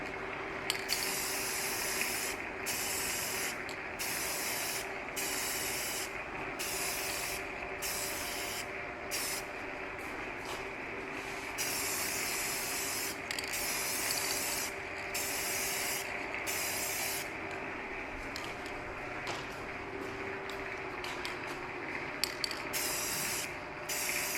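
Clear coat is spray painted onto a 2025 Toyota Tacoma grille in short, repeated hissing bursts from a spray gun, close and steady, separated by brief pauses.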